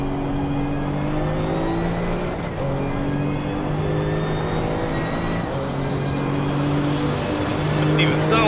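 A Maserati GT2 race car engine in Assetto Corsa Competizione at the Red Bull Ring whines at high pitch, shifting through gears with brief dips between long sustained pulls, loud and close, with talk partly over it.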